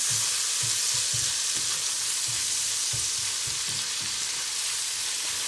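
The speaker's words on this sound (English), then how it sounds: "I'm gonna let this saute for a little bit." Venison steak and onion sautéing in a pan, a loud continuous hiss of frying with faint soft low thumps recurring underneath, close and steady with no voices.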